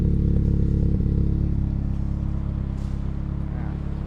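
A car with a full custom titanium exhaust runs close by, a steady low engine drone with a slight swell near the start and no voices over it.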